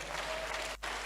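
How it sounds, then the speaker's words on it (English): Audience applause at an empowerment and transformation summit, a dense steady wash of clapping from a crowd, briefly dropping out near the end. "Please clap for him."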